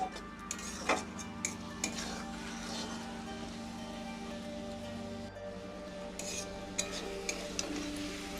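A spoon scrapes and stirs chaltar (elephant apple) pickle cooking down in a pan, with irregular clinks and scrapes over a steady low hum, close and moderately loud, with no voices.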